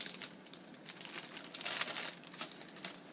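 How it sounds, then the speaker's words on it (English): A plastic bag crinkles and crackles as it is pushed down into a Coca-Cola drinking glass, with irregular close-up rustling bursts and no talking. "we're going to stick a plastic bag all up in here"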